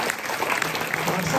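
Steady audience applause at an evening community event, dense clapping from a crowd filling the room, with a few voices calling out underneath.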